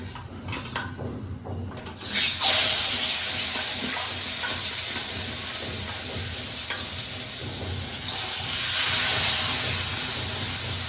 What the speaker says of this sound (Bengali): তেল গরম হয়ে গেছে, এবার এই মাছের মাথা দুটো আমি ভেজে নিচ্ছি